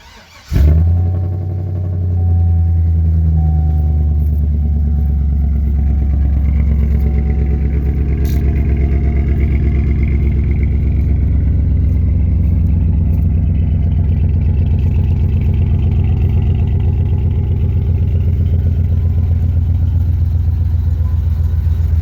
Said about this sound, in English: And I'll crank it up, let y'all hear the exhaust.